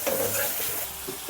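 Prawns fry dry in masala, a close, brief crackling sizzle with a soft stir.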